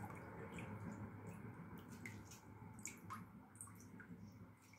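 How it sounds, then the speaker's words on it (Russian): Half a lemon squeezed by hand over a basin of water while preparing pear jam and compote, with steady close juice drips and splashes falling into the water, no talking. "Отжимаем половинку лимона."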